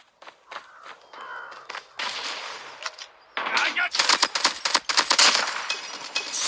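Gunshots in Call of Duty Mobile: scattered shots at first, then rapid automatic bursts of sharp cracks growing louder and denser toward the end.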